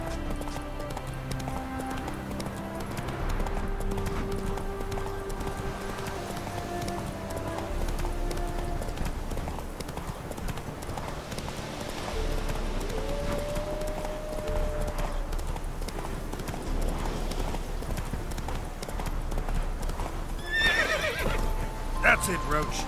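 A horse in The Witcher 3 game gallops with steady rapid hoofbeats and lets out neighs and whinnies over continuous in-game music and ambience, with someone speaking briefly to it.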